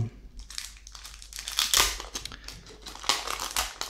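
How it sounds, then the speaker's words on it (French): Plastic wrapping crinkled and torn off a Korean Pokémon XY Zygarde EX card deck, close and crisp, with bursts of crackling and crumpling in quick irregular waves. "le gros paquet ici de 60 cartes que l'on va ouvrir"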